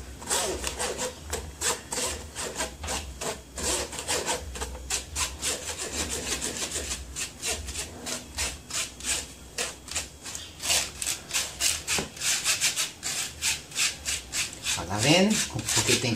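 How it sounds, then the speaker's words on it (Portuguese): Dry ingredients for a chocolate brownie batter are shaken and rubbed through a sieve, making a continuous fast rasping scrape close by that pulses steadily throughout, with occasional voices in the background. "Porque tem que peneirar."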